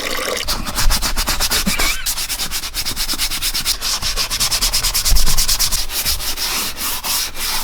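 Steel wool scrubs hard against leather in quick, rhythmic back-and-forth strokes, a dense abrasive rasping that continues steadily up close with no talking.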